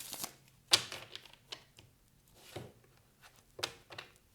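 Tarot cards shuffled by hand in a quiet room, a series of brisk papery riffles and snaps spaced irregularly, one sharper flick standing out, close and fairly soft with no voice.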